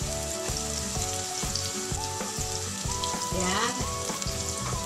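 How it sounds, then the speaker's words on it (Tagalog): Minced garlic sizzling in oil in a hot pan, a steady close frying crackle with faint stirring scrapes, and a person says a brief word over it. "igigisa lang natin siya hanggang sa lumabas yung kanyang bango"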